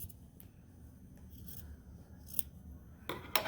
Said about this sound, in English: I need to cut a little seam in this.